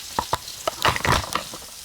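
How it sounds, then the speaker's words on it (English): Onions caramelize alongside green beans in a pan on a wood stove. There is a steady soft sizzle punctuated by sharp crackles and pops, with bursts of more intense frying, close up. "Got me some hot tea brewing, a little bit of green beans, some onions caramelizing, and we got us a nice baked potato cooking."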